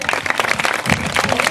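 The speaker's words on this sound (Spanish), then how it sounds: "Vamos a dar un aplauso." A crowd at the opening of a summer day camp breaks into steady, dense applause, many hands clapping at once with faint voices and cheers underneath.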